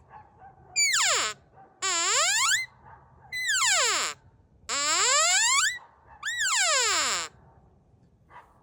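Cow elk call made with lips on a reed, giving five separate squealing calls that slide smoothly up and down in pitch, each about half a second to a second long, clear and close.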